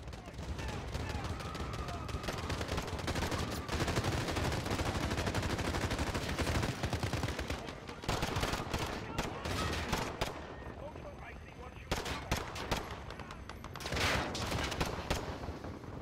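Gunfire in the Warzone video game: dense, continuous bursts of rapid shots and automatic fire, loud and close, with brief lulls between volleys and occasional voices underneath.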